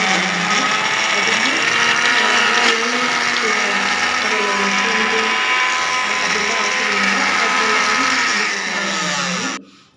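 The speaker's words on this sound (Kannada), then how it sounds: "ನಾನೀಗ ಮಿಕ್ಸಿಗೆ ಹಾಕ್ಕೊಂಡು" A kitchen mixer grinder churning batter for habbe vade, a loud continuous motor whine with a slightly wavering pitch that holds steady, then cuts off abruptly at the end.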